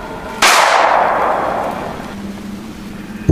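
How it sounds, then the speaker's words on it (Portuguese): A single loud gunshot cracks out and echoes through a room, its ringing tail fading over a couple of seconds, followed by a faint low hum. "o som do disparo ecoou pela sala"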